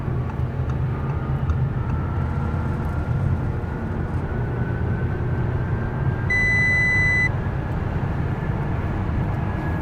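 Audi A6 accelerating at full throttle from about 65 mph to pass a truck on a highway, a steady loud drone of engine and road noise with a brief electronic beep chiming partway through.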